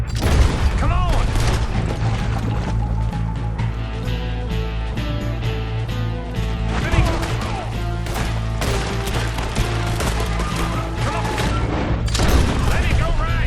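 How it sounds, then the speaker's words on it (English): A shootout in Red Dead Redemption 2 with rapid gunshots and booms over game music, with voices shouting throughout, loud and continuous. "We're shooting our way out of here, boys!"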